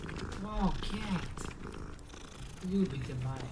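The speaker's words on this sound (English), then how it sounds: "Oh, cat." A cat purrs in the Hogwarts Legacy video game, a soft continuous rumble running beneath game music, with the harmonic sweeps of cat-like calls rising over it and no talking.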